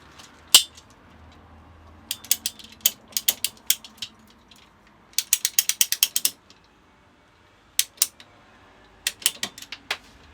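A pipe cutter ratchets through plumbing pipe while fitting water lines in a camper van, with a single sharp click followed by bursts of close, rapid ratcheting clicks in uneven groups against a quiet background.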